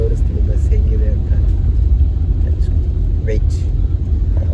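Steady low rumble of a full luxury bus driving along the road, heard from inside the cabin, with continuous engine and road noise and faint voices in the background.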